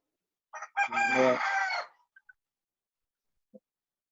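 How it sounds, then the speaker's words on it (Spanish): A rooster crows once, loud and fairly close, a single drawn-out call followed by a couple of faint clucks, during a virtual class with no one speaking. "Alguien le cantó el gallo por allá."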